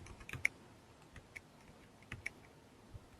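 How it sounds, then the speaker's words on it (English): Connection details typed on a computer keyboard, a sparse, uneven run of soft key clicks with a few sharper taps, close and quiet against a faint background. "And then we type in the connection details, including the IP address and the login account."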